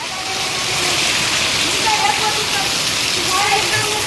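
Rainwater gushes from a drain spout in a village during a downpour, a loud, close, continuous splashing rush of falling water, with voices talking over it.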